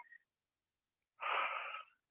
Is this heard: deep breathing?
yes